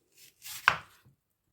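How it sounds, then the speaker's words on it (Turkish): A single knife chop through a leek on a cutting board, crisp and close, with a faint slice sound before it and quiet around it. "Bu pırasamı da doğrayacağım."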